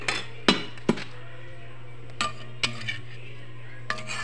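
A metal cooking pot lid in a home kitchen falls and clangs, sharp metallic strikes and smaller rattling clinks spread irregularly over a few seconds against a low steady hum.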